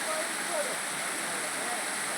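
Steady broadband rush of the Uppukulam waterfall, water dropping roughly 100 metres in a hilly area, a constant dense roar with no breaks.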